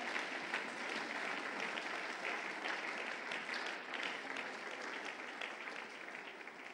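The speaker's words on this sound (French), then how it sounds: "Veuillez vous lever en l'acclamant très fort." A church congregation applauds steadily for several seconds, a dense wash of clapping filling the room with no voices standing out, tapering slightly at the end.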